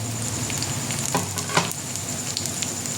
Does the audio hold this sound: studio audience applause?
no